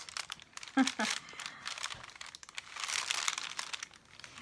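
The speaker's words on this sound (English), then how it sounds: "So you're just going to put the parchment paper down" Parchment paper crinkles and rustles as it is laid down over a chalk-ink craft project before heat setting. There are bursts of crisp crackling with a sharper crunch early on, close and moderate in volume.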